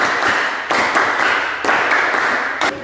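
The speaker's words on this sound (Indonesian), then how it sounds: "Sekarang kita berikan tepukan berapa untuk kelompok 1?" A classroom group claps together for group 1, producing sharp, loud bursts of unison clapping in a few distinct rhythmic clusters, close and clear with no talking.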